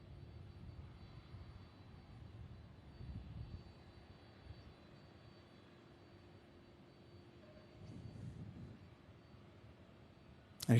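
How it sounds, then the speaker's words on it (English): A Boeing 767-300 airliner lands on runway 35 right at Louisville, heard as a faint, distant low engine rumble that swells twice and fades, with a steady hum underneath and a sharp knock at the very end. "Here we have a Boeing 767-300 coming in out of Salt Lake, landing on 35 right."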